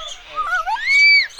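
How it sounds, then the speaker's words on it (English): Parrots fighting at a bird park in Pigeon Forge, Tennessee, giving loud, close, rising and falling screeches and squawks in a short burst. "My birds are fighting like Fury versus Wilder."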